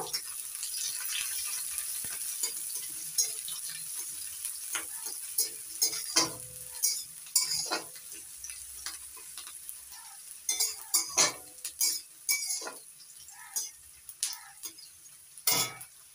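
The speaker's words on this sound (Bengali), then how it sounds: "এবার দিয়ে দিচ্ছি টুকরো করে কেটে নেওয়া পেঁয়াজ কুচি। হালকা করে ভেজে নেব।" Chopped onions sizzle steadily in a hot pan with cumin seeds, with repeated stirring scrapes and clinks of a spoon against the metal growing more frequent toward the end.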